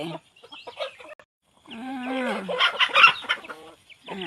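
Chickens cluck and squawk close by, a busy run of clucks building into louder, excited calls, with brief pauses between bursts.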